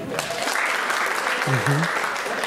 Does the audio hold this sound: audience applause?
yes